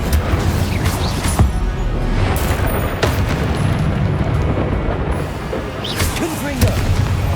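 Hogwarts Legacy fire spell Incendio cast in combat, loud bursts of flame and impacts repeating amid other spell blasts, with a man calling out spell names over the action.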